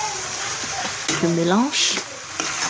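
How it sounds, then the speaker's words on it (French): Tomato and vegetables fry in hot oil with a continuous sizzling hiss and the scrape of stirring. A voice talks over the cooking. "je vais laisser la tomate dorer et puis je fais revenir au-dessus les légumes"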